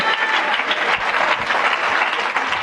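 Many people in a church congregation clap together in a continuous, full wash of applause, steady in loudness from start to finish with no clear talk over it.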